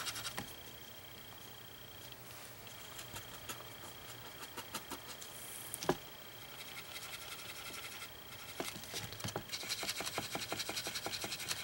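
A Loew-Cornell brush dry rubbing acrylic paint across a surface gives a soft, steady scratchy rasp, close and quiet, with a few louder strokes and brief ticks, and no talking.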